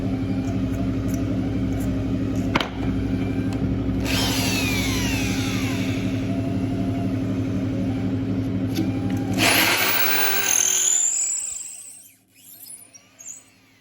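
A power drill bores into a shofar horn with a steady, loud whine, turning into a harsher grinding burst near the end before the drill stops.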